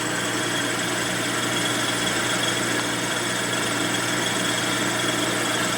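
A milling machine cuts rust and pitting off a metal part from a 1972 Harley-Davidson 1000cc Ironhead Sportster, making a steady, loud, continuous grinding whir with vibration and no speech.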